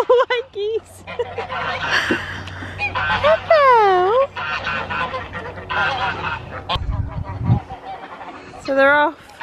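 White geese honk repeatedly near a pond in a farm enclosure, loud nasal calls rising and falling close by, mixed with a person talking.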